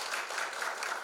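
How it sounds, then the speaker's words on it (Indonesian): An audience at a university guest lecture claps for a guest teacher, a brief, dense burst of applause from a roomful of people. "Jadi tepuk tangan untuk Yuna."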